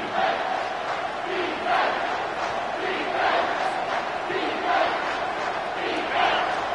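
A football stadium crowd roars during a Virginia Tech timeout on third and goal, a loud, sustained wall of cheering and yelling that swells in repeated waves.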